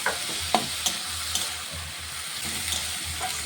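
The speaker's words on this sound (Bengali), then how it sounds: "মূলো শাকটিকে দিয়ে আবারও নেড়ে চেড়ে কিছুক্ষণ রান্না করে নেব" Radish greens stir-fried in a pan crackle and sizzle up close, with rhythmic scraping of a spatula and a couple of sharp knocks near the start, continuous with no talking.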